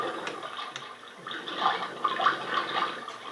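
Water splashes and trickles in the Seaman game on SEGA Dreamcast, light bubbling and sloshing at moderate volume with a few soft taps, no voices.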